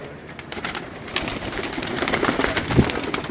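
Pigeons on a rooftop flutter and shuffle in close, busy bursts, with low murmuring coos and a louder wing-flap near the end.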